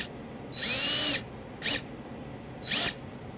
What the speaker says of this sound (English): we're going to use the provided sheet metal screw through the eyelet into the hole to secure our ground